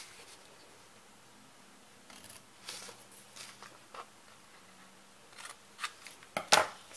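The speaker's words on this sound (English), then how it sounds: "Let me just cut those slits." Scissors snip slits into paper for a handmade matchbox craft, sparse soft cuts building toward a sharper, louder snip near the end, close and quiet with no talking.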